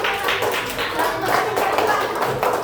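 Schoolchildren in an Indonesian classroom clap together for a classmate named Raka, a steady dense patter of many small hands at close range with bright, busy texture throughout.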